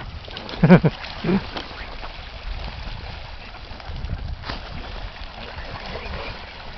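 A few quick duck quacks near the start, then a soft outdoor background of water and rustling in an icy winter setting with no further calls.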